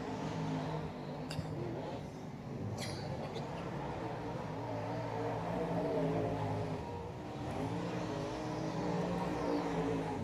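Dirt modified race car rolling out for qualifying at a Tri-City dirt track, a steady mid-distance engine rumble with a couple of sharp clicks over the drone.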